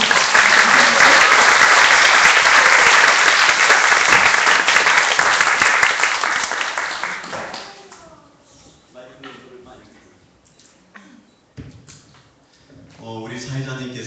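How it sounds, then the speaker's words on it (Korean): A lecture-concert audience applauds loudly and steadily for several seconds to welcome a speaker, the clapping fading out as a single voice begins speaking. "여러분 다 함께 박수로 한번 박사님 모시겠습니다"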